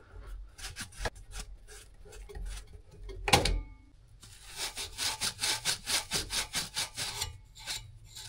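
A handheld saw cuts through copper heating pipe while an isolator valve is fitted on a domestic central heating system, with close, steady back-and-forth rasping strokes that speed into a fast regular rhythm after a brief clunk.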